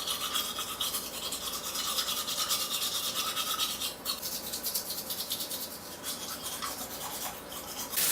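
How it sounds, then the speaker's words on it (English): Teeth are brushed with a turmeric and coconut oil paste, a close, steady scrubbing with quick rhythmic strokes that goes on the whole time. "once you've brushed it enough with this turmeric mixture"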